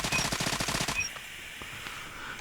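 A Type 25 rifle fires in Call of Duty Mobile, a rapid automatic burst of about nine evenly spaced shots that stops abruptly, followed by faint game ambience.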